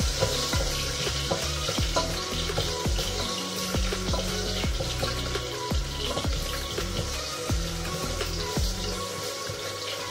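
Ginger sautés in a hot pan with a loud, continuous sizzle, while a utensil scrapes and taps the pan in a steady rhythm as it is stirred.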